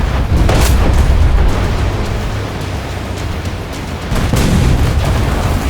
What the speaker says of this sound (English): the next wave of rockets rain down